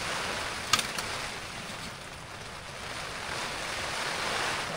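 Wind blows steadily at a foggy, rainy campsite in Sta Maria, Laguna, a broad continuous rush of air buffeting the microphone, with no voices.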